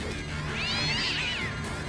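Angry cats meow and yowl in South Park: The Fractured But Whole, a steady, close run of strained, rising-and-falling cries lasting about two seconds with no talk.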